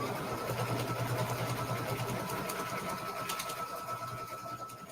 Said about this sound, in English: press foot down, hit start. I'm gonna move you guys back over here so you can see it stitch out.